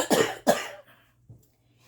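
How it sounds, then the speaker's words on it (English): Two sharp coughs in quick succession, close and fairly loud, followed by a faint throat sound after a short pause. "Got a cough"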